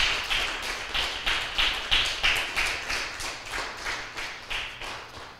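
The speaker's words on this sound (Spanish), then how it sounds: "Denle un fuerte aplauso al Señor, aleluya" A church congregation claps in unison for the Lord, a steady rhythmic beat of roughly two to three claps per second, each stroke sharp and bright, carrying on evenly without speech over it.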